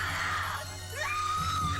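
A woman screams in pain during a film scene, a strained, wavering cry that rises and falls over steady low background hum at moderate volume.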